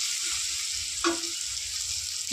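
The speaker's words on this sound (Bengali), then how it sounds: "এবার আমি আরেকটু ভালো করে ভেজে নেব।" Slit green chillies fry in a hot pan for a rohu fish curry, giving a close, steady, even sizzle with no voices.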